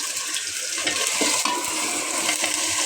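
Spiced chicken with turmeric and salt sautéing in a pan for biryani makes a continuous close sizzle, with scraping stirs and bubbling spatters running throughout and no talking.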